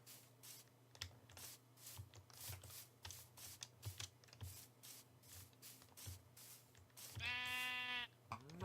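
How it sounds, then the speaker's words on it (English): Soft rustling and shuffling steps in a quiet field give way to a single wavering sheep bleat near the end, close and clear. "There's another sheep over here."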